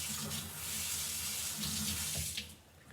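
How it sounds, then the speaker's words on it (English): Watercolor paintbrush bristles rinsed in water, a steady close splashing and trickling wash running for about three seconds with no voices. "I wanted to rinse out my bristles so that I wasn't contaminating any of the colors"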